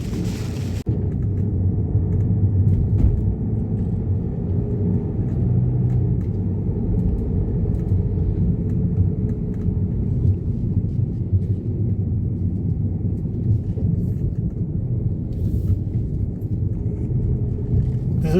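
A 2010 Skoda Superb top-end diesel with a 2-litre engine and automatic gearbox is driving, giving a steady low interior road rumble and engine drone that holds evenly throughout with no speech.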